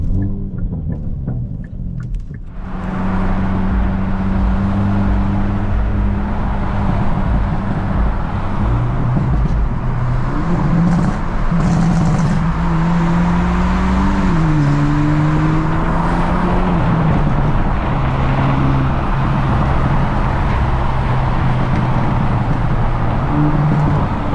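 A supercharged car engine with a new 4-inch downpipe idles loud and close, a deep steady rumble. It rises in a couple of revs and falls back, then settles into a continuous throaty drone.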